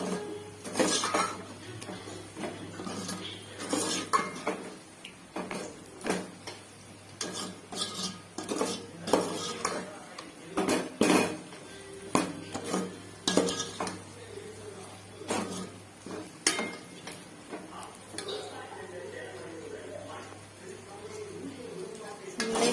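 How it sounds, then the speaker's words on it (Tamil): Masala being sautéed and stirred in a pan for biryani, with a spoon scraping and clinking against the metal in irregular bursts over a low steady hum, close and moderately loud. "நல்லா எண்ணெய் பிரிஞ்சு வர அளவுக்கு நல்லா வணக்கிக்கணும்"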